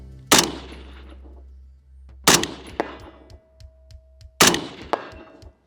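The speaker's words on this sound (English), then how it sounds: "look, I'm barely even gonna put any pressure on this gun and pull the trigger." Suppressed shots from an LMT bolt-action rifle fitted with a Hux can: three sharp, loud reports a couple of seconds apart, each with a short decaying tail and faint metallic clinks between them, no talking.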